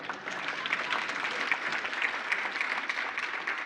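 Audience applause for Professor Jordan at an accountability and justice event, steady dense clapping filling the whole stretch at moderate loudness with no voices over it.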